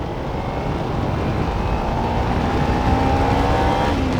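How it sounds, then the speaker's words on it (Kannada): A Kawasaki Ninja 300 motorcycle held at full throttle gives a loud, continuous engine roar with a steadily rising tone, close and without a break. "ನೋಡ್ರಿ ಹೆಂಗೆ ಥ್ರಾಟಲ್ ಫುಲ್ ಹಿಡಿದ್ಬಿಟ್ರು ಒಂದೇ ಸರಿ ಎಳಿಯಲ್ಲ ಗಾಡಿ."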